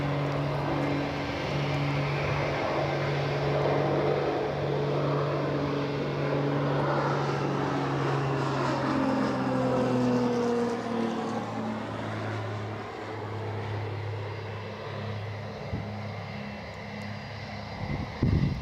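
Aircraft Oscar India Hotel passing at Gold Coast Airport, a loud propeller engine drone whose tones slide downward as it flies by and recedes, with no one talking.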